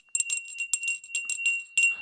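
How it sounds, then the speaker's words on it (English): A small bell rings in a quick run of bright, tinkling strikes with a steady high tone, fairly faint and heard alone in a quiet room. "Hey, I hear the bell this time."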